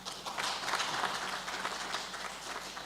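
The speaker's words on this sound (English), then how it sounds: "Let us give him a better clap." An audience at a university international conference gives a speaker a round of applause: continuous, fairly distant clapping that holds steady and slightly fades over a few seconds, with no talk on top.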